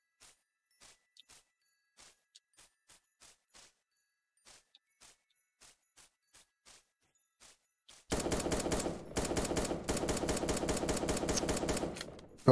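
Assault rifle fire in a battle royale video game, starting as scattered faint single shots and then breaking into loud, sustained rapid bursts with brief gaps between them.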